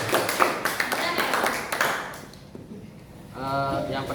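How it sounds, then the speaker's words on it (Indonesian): Classroom applause for students, a short burst of scattered clapping from a small group that fades out, followed by a voice beginning to speak. "Tepuk tangan untuk mereka."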